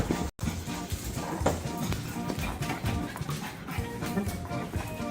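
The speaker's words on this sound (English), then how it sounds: "Y'all want to feed the dogs, don't you?" Dogs whine and whimper before feeding, a busy near run of yips and soft whimpers with faint panting, almost no talk.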